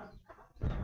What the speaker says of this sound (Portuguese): Aí as galinhas fazem a festa aqui.